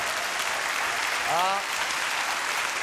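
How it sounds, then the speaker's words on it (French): A studio audience on a French television show applauds, with a dense, steady wash of clapping throughout and a brief voice exclamation in the middle. "applaudissements de la foule en délire"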